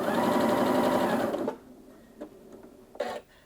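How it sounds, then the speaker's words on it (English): A Janome Atelier 7 Anniversary Edition sewing machine stitches in a loud, fast whirring run lasting about a second and a half, then stops, leaving a few quiet mechanical clicks and a brief thump. "So if I just put my foot down now, I can start to sew."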